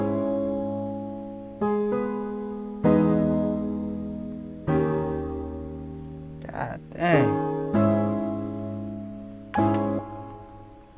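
Sustained organ-like synth chords play loud and alone, each held for a second or two before the next one, with a brief pitch-bending swoop midway.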